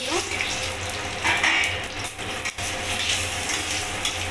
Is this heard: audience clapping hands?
no